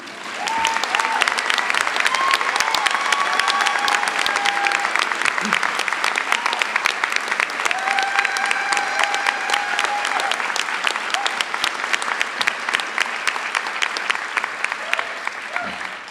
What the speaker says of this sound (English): make that applause even harder for Dean Compton